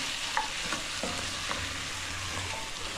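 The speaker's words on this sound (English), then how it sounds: "You stir a little bit." Capsicum stirred in a frying pan, a continuous close sizzle with a few light scrapes and taps of the spoon against the pan, no voices.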